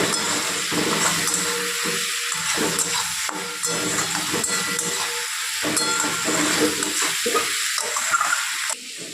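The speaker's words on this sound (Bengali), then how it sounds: "সমস্তটা খুব ভালোভাবে আমি আরো একবার কষিয়ে নেব।" Cumin and coriander paste with ground spices sizzles loudly in a pan for a fish egg curry, a dense hissing fry broken by rhythmic stirring scrapes, close and steady, with no one talking.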